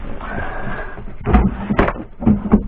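Shallow drawers in a self-built camper are pulled open, giving a few close sliding knocks and bumps in two short clusters after a quieter stretch.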